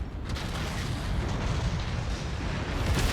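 An Atlas target mech explodes in the MechWarrior 5: Mercenaries video game, a loud, dense, rumbling blast that swells and sustains without a break, with no speech.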